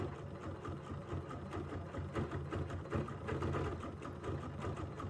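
An embroidery sewing machine couches fibers onto a framed design, running as a continuous, busy mechanical whir with rapid stitching pulses and a low motor hum, alone and unbroken.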